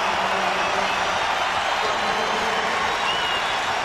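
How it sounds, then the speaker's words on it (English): A basketball arena crowd at an NCAA second-round game between Stanford and Kansas roars with steady cheering, a dense, continuous wash of noise that holds at full volume throughout, with an announcer talking over it. "listen to this crowd cheer"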